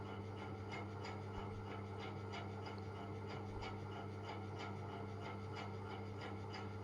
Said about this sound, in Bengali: শিলে করে হালকা করে একটু বেটে আমি ওটাই তরকারিতে অ্যাড করব।